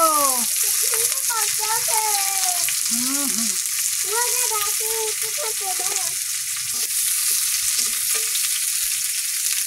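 Sliced onions go into a hot pan and fry with a steady, loud sizzle that runs unbroken from start to finish, while a voice speaks briefly over the hiss.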